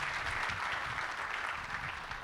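Steady audience applause at a mushaira poetry gathering, a dense wash of clapping held at an even level, fairly soft and without voices.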